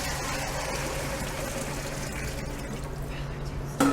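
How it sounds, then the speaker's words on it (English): Water pours steadily into a stew pot in a BBQ cooking setting, a continuous close splashing rush that runs without a break and ends with a brief clatter. "basically we're going to add our water"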